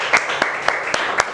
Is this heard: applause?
yes